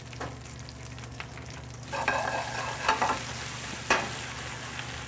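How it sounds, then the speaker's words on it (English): Food sizzles steadily in a hot pan with a little extra virgin olive oil, with a few louder bursts of crackle as it is stirred or tossed; no voices. "put it into a hot pan very quickly with a little bit of extra virgin olive oil"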